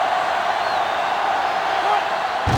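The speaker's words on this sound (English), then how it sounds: "this crowd is going absolutely insane" A football stadium crowd roars wildly in a dense, sustained wall of cheering that stays loud throughout, with a brief thump near the end.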